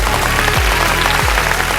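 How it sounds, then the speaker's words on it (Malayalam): A large audience claps loudly and steadily at a lifetime achievement award ceremony honouring Sreekandan Nair. The applause forms a thick, unbroken wash, with low tones humming faintly beneath it. "എല്ലാവരും ചേർന്ന് ഒരിക്കൽ കൂടി മനസ്സറിനൊരു വലിയ കൈയടി അദ്ദേഹത്തിന്"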